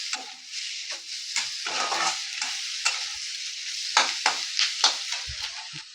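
Oil sizzles in a pan as a spoon stirs and scrapes repeatedly, giving an even frying hiss broken by clinks and scrapes, close up and with no talk, before chicken mince goes in for momos.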